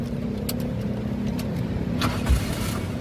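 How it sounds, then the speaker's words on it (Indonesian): A 2002 Daihatsu Taruna 1.6 FX manual car with 158,000 km idles with a steady, close engine hum, and a brief low thump comes near the end. No one speaks. "Nah, ini kita coba nyalakan mobil ya."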